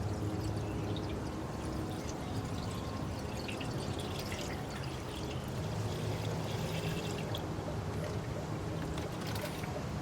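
Engine coolant draining from a 1964 Pontiac LeMans into a container: a continuous, even rushing pour with a faint dripping texture, steady for the whole stretch with no talking.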